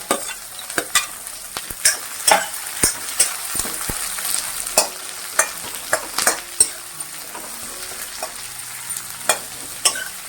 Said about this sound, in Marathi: तेल तापल्यावर पहिल्यांदा कांदा घालून घ्यायचा आहे।